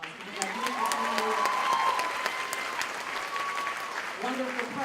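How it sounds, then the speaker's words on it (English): Audience at a graduation ceremony applauds steadily for about five seconds, a dense wash of clapping with some cheering, and a voice faintly audible underneath. "And you can give her a round of applause."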